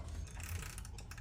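Ratchet fitted with no socket onto the belt tensioner of a 5.7 HEMI engine: a faint, quick run of small metallic clicks near the end over a low background rumble.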